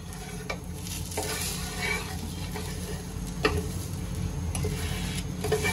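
A ragi (finger millet) neer dosa roasts on a hot pan with a steady, close sizzle and hiss, broken by scattered sharp ticks and pops. No one speaks.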